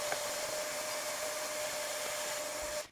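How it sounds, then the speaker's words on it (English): A shop vac cleaning out the filter compartment of a Samsung DV22N6800HW heat pump dryer: a steady, loud whooshing roar with a constant whine that cuts off abruptly at the end. "you need a shop vac to clean it because it can get a little gross in there"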